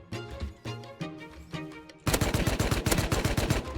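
Gunfire in the video game Rust: a few spaced single shots at first, then a sudden loud burst of rapid automatic fire filling the second half, with no talk.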